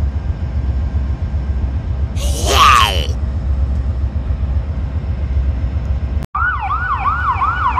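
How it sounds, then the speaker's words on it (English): A loud voice whoops briefly, then after a sudden cut a passing ambulance siren begins wailing in a fast, repeating up-and-down pattern close by. "Oh, the fucking ambulance!"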